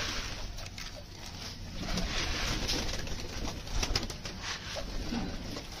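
Pet pigeons coo softly and repeatedly while pecking at scattered grain, close by, with faint rustling and a low background hum.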